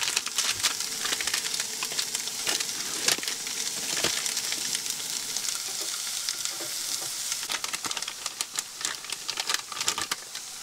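Steak and onions for Philly cheesesteak fry in a pan at a van-life campsite in the Black Hills, with a steady close sizzle and scattered crackles and pops running throughout, no talking.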